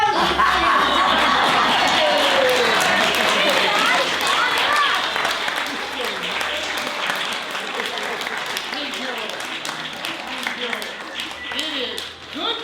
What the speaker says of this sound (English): And now give it up for our cast.